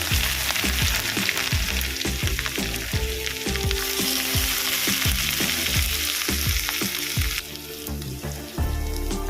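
Chopped onions fry in a pan, a loud continuous sizzle punctuated by rhythmic scraping strokes of a spatula stirring them, with no talking.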